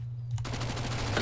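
Gunfire in Counter-Strike: Global Offensive, a video game: a quick burst of rapid shots following a short quiet moment, moderately loud against a steady low hum.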